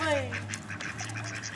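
Ducks quack in quick, overlapping calls while being fed bread, close and fairly loud, with a person talking over them.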